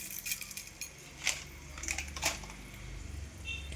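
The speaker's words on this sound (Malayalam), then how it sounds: "ഇതേ കുറച്ച് ഉലുവ ഇട്ട് പൊട്ടിക്കാം." Fenugreek seeds sputter in hot oil in a pan while a Kerala-style roasted curry is being cooked, giving a few faint, scattered crackles and pops over a quiet low hum.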